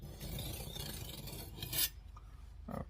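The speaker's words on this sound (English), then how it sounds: "I'm going to drag each tooth on this stone, and that'll help deburr anything in between the teeth." Serrated knife teeth dragged one by one across a whetstone give a close, steady rasping scrape, which ends in a sharp bright swipe and then a last brief stroke after a short pause.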